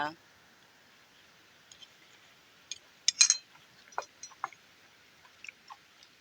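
Soft, close chewing with scattered small clicks and clinks of eating rice with bamboo shoot salad, quiet and intermittent over a faint background hiss.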